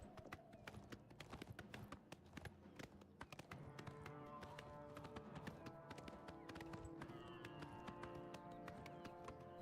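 Horse hooves clop in a quick steady rhythm while riding in the video game Oblivion Remastered on Xbox Series X, close and continuous over a soft game soundscape.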